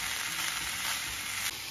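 Picadillo frying in a pan while cooking stuffed chiles perones gives a steady, close, loud sizzle that holds evenly throughout, with no talking.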